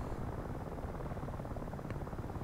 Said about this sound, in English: And there go the helicopters.